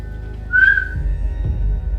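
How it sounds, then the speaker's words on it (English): A single short, faint whistle note rises briefly over a low droning hum in a quiet room. "Was that whistle somebody who lived here?"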